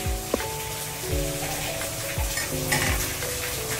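A pot of sinigang with beef tripe and potatoes comes back up to a boil, giving a soft continuous bubbling hiss with a few clinks of a utensil against the pot, close and fairly quiet.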